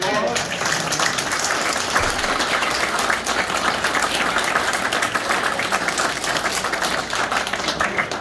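Audience applause at a Northern Kentucky University Sports Hall of Fame tribute, dense and steady clapping from a sizeable crowd, loud and continuous throughout.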